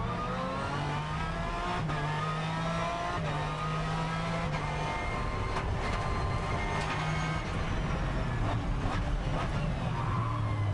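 Aston Martin GT race car at a Blancpain Endurance Series round at Navarra, its engine loud from onboard as it downshifts through a couple of gears into a turn, with stepped pitch drops and blips over road and wind roar.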